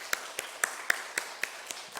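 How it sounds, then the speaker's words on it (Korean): A church congregation at a Sunday young-adults worship service claps in unison: about eight sharp, evenly spaced claps in a steady rhythm, fairly quiet and set against a faint background hum. "우리 한번 박수 한번 치겠습니다."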